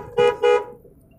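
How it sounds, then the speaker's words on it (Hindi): Two short, loud honks from a car horn ring out close by at a city intersection, leaving a low hum of traffic. "हॉर्न मारिए, चौराहा है"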